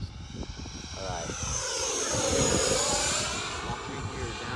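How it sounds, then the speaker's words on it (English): A Freewing MiG-29 RC jet with twin 12-blade ducted fans whooshes past with a rising and falling high-pitched whine, close and loud, while someone talks over it. "it sounds absolutely amazing with those two 12 blades in there"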